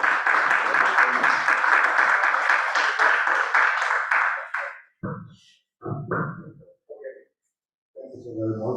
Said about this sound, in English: I think the clap we gave was for the English presentation